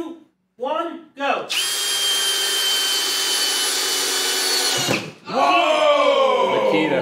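Two hammer drills, a RIDGID and a Makita, drive 3-inch screws side by side in a timed race, giving a loud, steady whine that runs unbroken for about three seconds, with excited voices before and after.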